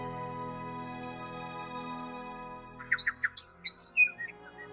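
A steady electronic drone gives way to a burst of sharp, high chirping squawks: the cry of Mamafly, a ghost and flying bird Pokémon in the Pokémon Teal video game, clipped and synthetic.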